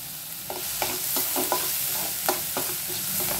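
Fresh capsicum sautéing in a pan, a steady close sizzle broken by a string of sharp scrapes and taps as a spatula stirs and tosses the pieces, with no voices.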